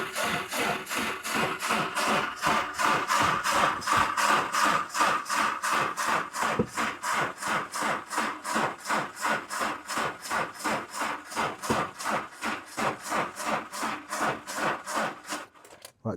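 A Saab Classic 900 Cabriolet engine cranks on double batteries, a fast rhythmic whirring churn that runs steadily for many seconds without catching, then cuts off.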